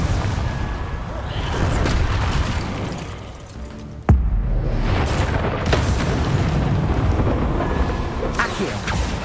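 Confringo spell explosion in Hogwarts Legacy, a sharp loud blast cutting through busy combat noise, followed by continued rumbling game sounds and a voice.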